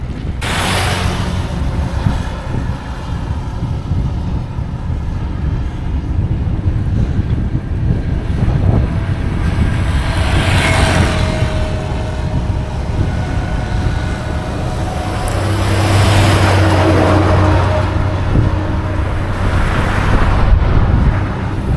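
Steady headwind roars and buffets the microphone during a cycling ride on an all-India tour, a continuous loud rushing noise that swells in gusts, with no talking.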